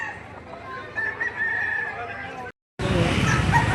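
A rooster crows at a morning chicken market in Padre Garcia, its call carrying over busy market noise and voices, then cut by a brief gap before loud, crowded ambient sound resumes.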